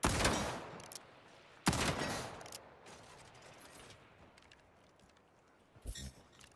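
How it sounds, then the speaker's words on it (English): Weapon fire in the shooter game Highguard: two loud rapid bursts of gunfire, each trailing off into a mechanical rattle, followed by a quieter pause and one last short shot. "We can start by firing your weapon. Go ahead, take some shots."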